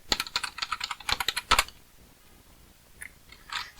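Computer keyboard keys tapped to enter a password during a Linux setup: a quick burst of close, crisp clicks, a pause, then a few more keystrokes.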